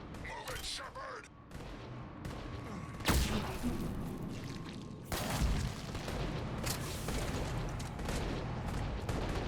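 Rapid bursts of sci-fi gunfire and booming blasts from a Mass Effect 3 firefight, loud and dense, with sharp surges around the middle over a steady din of combat.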